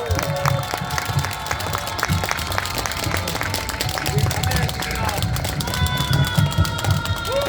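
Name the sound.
audience applause welcoming a speaker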